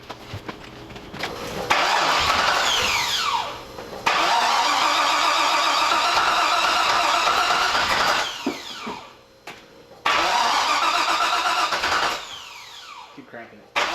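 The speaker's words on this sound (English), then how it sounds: "I'm gonna try to start it" Car engine, a Corvette project, cranking over in repeated bursts that catch and rev briefly, several attempts separated by short pauses, loud and close.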